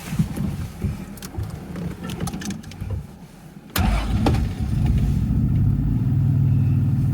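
A classic Jaguar XK150 engine cranks and catches, then settles into a steady, rumbling idle, close and loud, with no voices.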